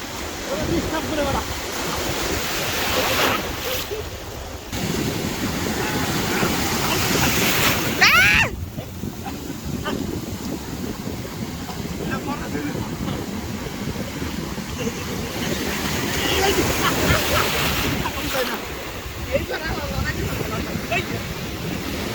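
Ocean surf at De Panne, Belgium, washing up the beach in steady broad swells under gusty wind noise, with a louder surge near the middle and voices briefly calling out.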